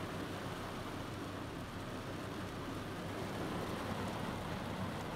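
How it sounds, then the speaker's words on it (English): Heavy rain pours down in Charleston, South Carolina, a dense, even hiss that stays constant throughout with no voices. "it decided to start pouring down rain"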